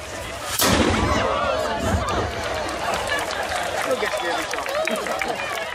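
A starting gun fires with one loud, sharp report at a classic yacht race on Sydney Harbour on a gusty day of about 20 knots. Wind roar and the chatter of a crowd nearby carry on steadily after the shot.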